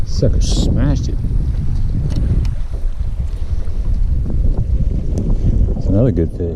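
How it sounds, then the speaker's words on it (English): Steady wind buffets the microphone beside a shallow, flat lake pocket with scattered grass, a constant low rumble under brief bits of talk. "Just wind blowing in this little pocket"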